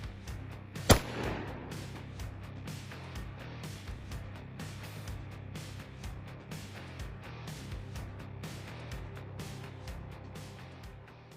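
A rifle fires rare 5.56 blue-tip training ammunition, one sharp close loud crack early with a brief echoing tail, followed by quieter handling clicks and faint background noise.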